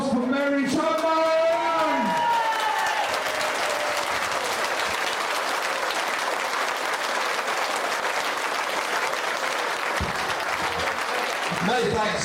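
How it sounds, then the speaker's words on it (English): An audience applauds in a hall at a Northern Soul reminiscence event, steady broad clapping for about twelve seconds after a brief voice at the start, holding even loudness throughout. "a big round of applause for Mary Chapman!"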